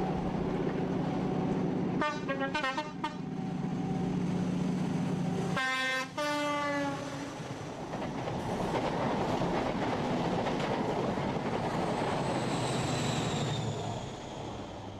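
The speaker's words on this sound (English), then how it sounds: "It's a rainy day in Devon, but the train makes light work of the dreaded Dainton Bank." An HST diesel high-speed train climbs Dainton Bank in Devon in the rain, with a loud continuous rumble and rushing roar, two blasts of its horn early on, and a passing swell as it goes by close.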